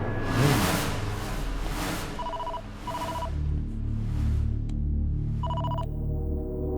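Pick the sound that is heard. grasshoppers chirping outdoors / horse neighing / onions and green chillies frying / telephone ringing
telephone ringing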